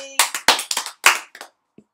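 A short burst of hand clapping, about eight sharp claps in an uneven rhythm, close and fairly loud, fading out after about a second and a half.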